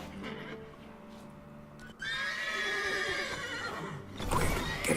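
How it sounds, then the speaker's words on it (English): Horses in The Witcher 3 neigh loudly and whinny in a drawn-out call, with hoof clip-clops and game ambience around them, ending in a sharper burst of noise. "Gotta call the horses before they wake the guards."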